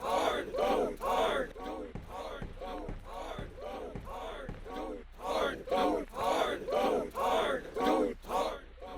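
A crowd shouts in rhythmic, repeated bursts, loud massed voices rising and falling in a chant-like pattern with short gaps between them.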